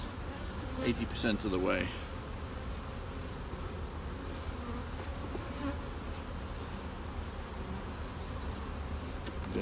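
Honey bees buzz in a steady, faint drone around a nuc box holding a small rescued swarm, with a short spoken phrase near the start.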